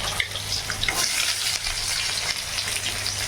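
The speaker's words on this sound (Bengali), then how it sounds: "এই যে পেটির মাছ এই যে লঙ্কা আর পেঁয়াজ কেটে নিয়েছি মাছের তেলটা ভাজা করবো" Fish belly fat fries with sliced onion and chili, giving a steady, moderate sizzle broken by occasional clinks and scrapes of stirring.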